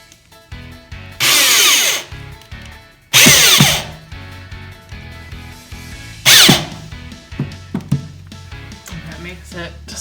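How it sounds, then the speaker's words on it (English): A power drill bores holes and drives 1-inch screws into particle board cabinet bottoms on a DIY kitchen island. Three loud whirring bursts of a few seconds each stand out against lighter handling noise, with voices underneath. "we're drilling a hole so we don't risk splitting this particle board shelving unit"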